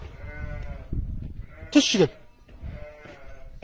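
Sheep and lambs bleat in a flock guarded by a herding dog, with a sharp, loud bleat near the middle over a low murmur of activity, while people talk nearby.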